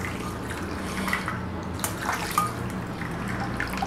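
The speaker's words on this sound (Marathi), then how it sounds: "आता वरून आपल्याला थंड पाणी घालायचं आहे" Cold water poured over soaked cashews while making dhaba-style kaju masala, a steady soft trickle and splash that runs for a few seconds at low volume.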